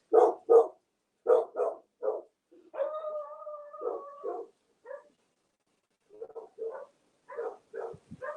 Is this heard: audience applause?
no